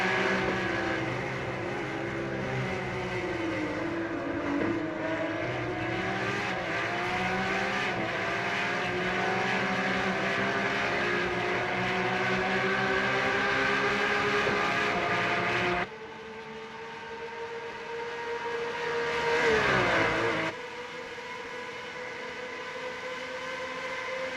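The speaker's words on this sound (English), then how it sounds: "You can really just hear those Porsches screaming down the track." Porsche race car engines in a video game scream continuously at Mount Panorama Circuit, pitch sweeping up and down through gear changes, then abruptly cutting to a quieter engine tone before another rising pass.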